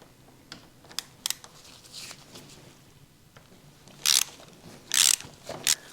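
A ratchet turns to loosen the top pinch bolt on a Honda CB1300 motorcycle fork, sparse small clicks, then a few louder bursts of ratcheting near the end, close up.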